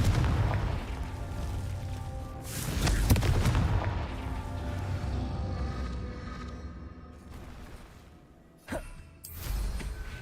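Confringo fire spell cast in Hogwarts Legacy, a dense rumbling barrage of booming blasts across the clip, with a sharp burst near the middle and another blast near the end over continuous game noise.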